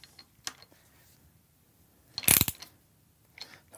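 Torque wrench tightening motorcycle fork triple clamp bolts: a short burst of sharp ratcheting clicks near the middle, with fainter isolated clicks before and after in a quiet workshop.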